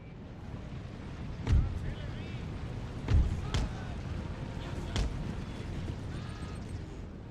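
Deep cannon booms from a Prussian army's artillery in Empire: Total War, firing in a loose volley of about four heavy thuds spaced over several seconds above a steady battlefield ambience.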